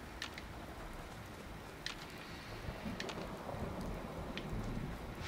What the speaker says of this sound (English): And now it's gonna start raining on us.